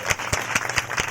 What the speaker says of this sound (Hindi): जोरदार ताली बजाए परमेश्वर की